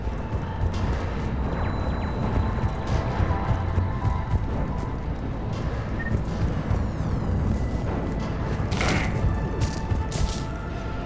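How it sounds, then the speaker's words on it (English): Heavy cannons fire in the Mass Effect 3 video game, a constant rumbling barrage of booms and crashes, loud and dense, with mechanical clanks layered over the roar. "Those cannons have to be stopped."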